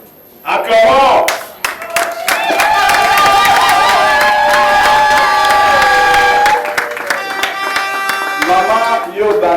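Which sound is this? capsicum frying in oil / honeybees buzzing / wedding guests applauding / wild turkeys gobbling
wedding guests applauding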